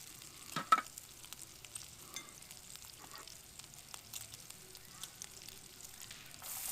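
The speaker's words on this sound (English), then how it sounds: "I think I'm going to start throwing my vegetables in." Onions, tomatoes and mushrooms tossed into a pan beside a game hen cooking over an outdoor bushcraft fire, giving a soft, faint sizzle with a light clatter near the start and quiet crackling throughout.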